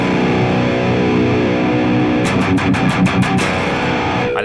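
Electric guitar played through a Mercuriall Spark Marshall amp simulator set to crunch, a loud, continuous, gritty distorted tone with a run of sharp rhythmic strums near the end.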